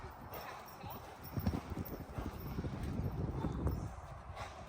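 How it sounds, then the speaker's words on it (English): A horse trots during freeschooling, its hooves clip-clopping in a quick steady rhythm close by, fairly quiet, with a voice talking faintly over it. "Vossi, trotting, trotting."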